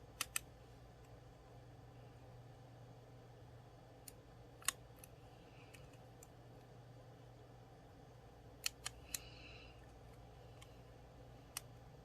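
Small scissors snip while cutting pieces for festive tree nail art, giving a few sharp, quiet clicks at irregular intervals in an otherwise still room.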